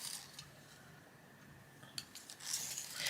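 A Polychromos colored pencil in light ultramarine is turned in a sharpener, giving a soft, steady grinding rasp that swells toward the end, close by and fairly quiet, with no voices.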